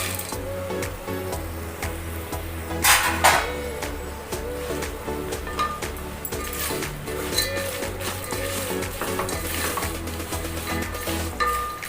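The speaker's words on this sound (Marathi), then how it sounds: "आता आपण शेंगदाणे आणि डाळ्या टाकूया फोडणीमध्ये।" Peanuts and roasted gram fry in a spiced oil tempering for a flattened rice chivda, a steady close sizzle with a spoon stirring and clinking against the pan.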